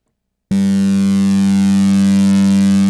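A steady sustained synth tone from the Phase Plant softsynth with a chorus effect set to three voices at full mix, starting after a brief silence and holding loud, wide and shimmering to the end.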